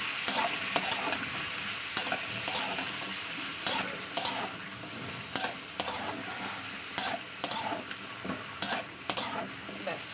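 Pointed gourd and onion frying in a little oil, a soft continuous sizzle with regular scraping and tapping strokes of a spatula stirring them, fairly quiet and close, with no voices.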